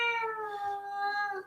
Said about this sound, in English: And my cat's starting to meow.